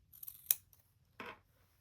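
Sharp scissor tips snip notches into fabric, giving two distinct crisp cuts in a quiet room with a faint hum underneath.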